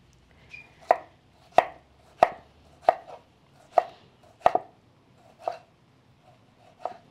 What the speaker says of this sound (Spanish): voy a ir picando los jitomates y los chiles